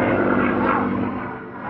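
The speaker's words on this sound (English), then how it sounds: "P-51 Mustang." A P-51 Mustang, the World War II fighter, flies at an airshow, its piston engine a steady broad drone that holds loud and even throughout, fading slightly toward the end.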